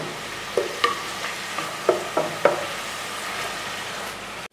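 Chopped onion softening in a little oil in a pan, a soft steady sizzle broken by several sharp clinks of a utensil stirring against the pan.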